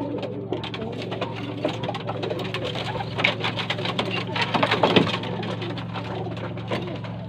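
Blue bar racing pigeons coo repeatedly in a loft, soft throaty rolling calls layered over steady background noise and light scuffling, with a few louder coos near the middle.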